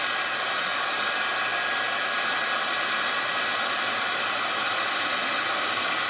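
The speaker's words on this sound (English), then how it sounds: "So I picked up a new heat gun off Amazon." A new heat gun blows hot air close by, a steady loud hiss of rushing air with no other sounds.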